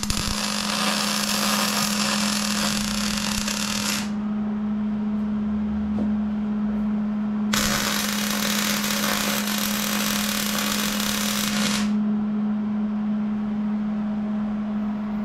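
A welder lays tacks on a car body during fabrication work on a K5 Blazer and a 1968 Impala, two long loud crackling buzzes of about four seconds each separated by a pause, over a steady electrical hum.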